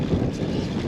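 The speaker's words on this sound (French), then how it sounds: "le vent a fait son apparition" Steady, low rushing wind buffets the microphone of a bicycle riding a sandy gravel route near Orléans. The roar is continuous and fairly loud, with no voices.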